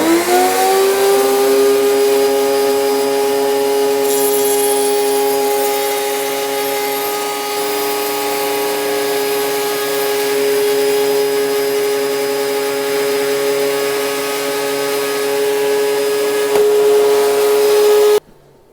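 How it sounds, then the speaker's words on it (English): A Lumberjack RT1500 router table cuts wood while a dust extractor runs, giving a loud, steady motor whine with strong harmonics that holds for about eighteen seconds and then stops abruptly. "So this is dust extraction and the dust port"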